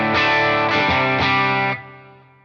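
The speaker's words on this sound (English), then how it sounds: "All right, it's got just the delay and the reverb after." Electric guitar through a Fractal FM9/Axe-Fx III amp model with delay and reverb, a few loud sustained strummed chords in quick succession that ring out and fade, no talking.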